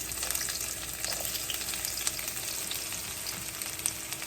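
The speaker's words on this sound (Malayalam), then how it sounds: "ചൂടായ പാനിലേക്ക് ആവശ്യത്തിനുള്ള എണ്ണ ഒഴിച്ചു കൊടുക്കണം. അതിനുശേഷം വെളുത്തുള്ളി, ഇഞ്ചി ഇട്ട് കൊടുക്കണം." Garlic and ginger fry in hot oil in a pan for a beef masala, giving a steady, close, even sizzle with faint crackles throughout and no talking.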